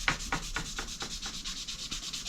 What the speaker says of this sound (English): You got to make sure you get all those little edges nicely scuffed up so the paint can grab.